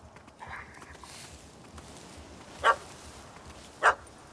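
Dog barking in The Witcher 3 video game, two sharp, separate barks a second apart over a quiet ambient bed with faint background sounds.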